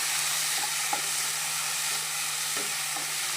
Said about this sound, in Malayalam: എന്നിട്ട് നമുക്ക് നല്ലപോലെ ഒന്ന് വഴറ്റി എടുക്കാം